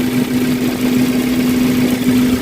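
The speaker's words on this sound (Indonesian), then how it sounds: "Ini suara mesinnya halus banget teman-teman" A 2014 Suzuki Carry Futura pickup's fuel-injected engine idling: a steady, smooth low hum with an even tone throughout, close and continuous with no talk.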